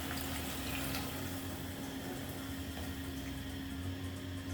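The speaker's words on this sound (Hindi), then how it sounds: "अब ये देखें मैं इसमें पानी डाल रही हूँ।" Water is poured into a cooking pot of tinda (round gourd) curry to make gravy, a steady, continuous rushing splash lasting several seconds with a faint hum beneath.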